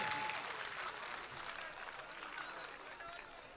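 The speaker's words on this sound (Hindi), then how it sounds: "तालियां बजाइए एक दफा जनाब अल्ताफ जिया के लिए" Audience applause fills a mushaira hall for poet Altaf Ziya in Ahmedabad, a dense, steady wash of clapping that continues evenly throughout and eases slightly toward the end.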